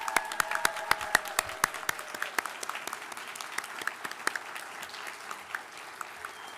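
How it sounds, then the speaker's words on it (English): Audience applause at a Latinx graduation ceremony, with sharp individual claps standing out over a lighter bed of clapping that thins out as it goes. "give each other a round of applause"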